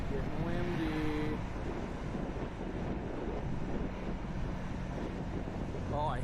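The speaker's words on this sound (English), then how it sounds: "It's getting windy." Strong wind buffeting the microphone ahead of a Kansas tornado, a continuous loud roaring rush with faint voices briefly audible at the start and end.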